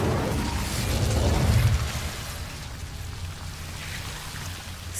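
In the wizarding game Hogwarts Legacy, an Incendio fire spell whooshes and crackles in a loud, rumbling burst that swells for about a second and a half, then falls back to a softer hissing, spattering ambience.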